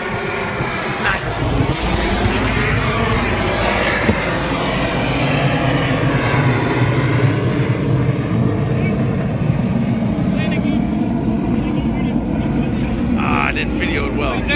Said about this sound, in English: But it went directly over our boat, a fighter jet.